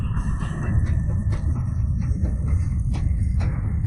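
A tribulation lightning thunder effect in a fantasy cultivation drama: a loud, continuous low rumble with crackling bursts layered on top, sustained and heavy throughout.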